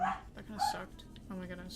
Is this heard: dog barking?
yes